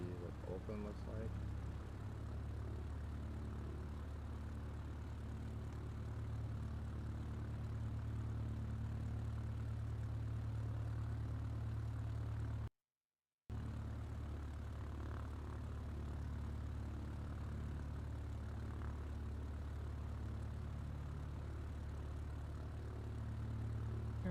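A propeller aircraft engine in a flight simulator game drones steadily at a low, even pitch throughout, broken by one brief silent gap, while a voice talks over it.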